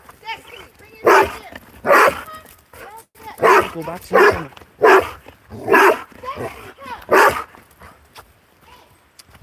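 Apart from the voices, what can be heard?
golden retriever dog barking by a river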